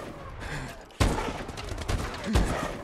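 Gunfire in the video game Call of Duty Advanced Warfare, with two sharp loud shots standing out over a constant busy rumble of battle noise.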